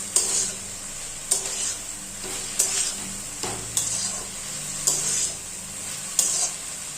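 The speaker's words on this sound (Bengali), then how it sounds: "এখন একটু নাড়াচাড়া করে নিচ্ছি" A spatula stirs potatoes sizzling in a pan, with a steady hiss of frying broken by sharp scraping strokes roughly every second or so.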